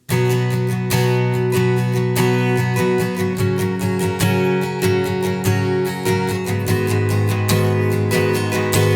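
Acoustic guitar strummed in a steady rhythmic pattern in 4/4 at 79 BPM, bright percussive strokes repeating evenly, close and fairly loud with no voices.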